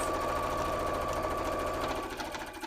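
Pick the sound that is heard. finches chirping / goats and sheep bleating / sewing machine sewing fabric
sewing machine sewing fabric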